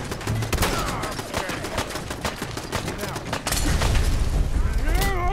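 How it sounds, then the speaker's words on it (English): Explosions blowing up the player in the video game Fallout 4: a dense run of sharp blasts and gunfire-like cracks, loud and close, with a deeper rumbling boom in the second half and a voice talking over the chaos. "I am being blown up."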